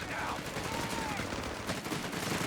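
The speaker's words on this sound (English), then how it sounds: "Heavy machine gun fire there out of DexN against them" Heavy machine gun fire in Company of Heroes 3 rattles in a dense continuous stream amid battle noise, steady and moderately loud, with speech faintly underneath.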